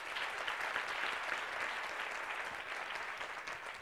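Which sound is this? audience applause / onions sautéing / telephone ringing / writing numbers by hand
audience applause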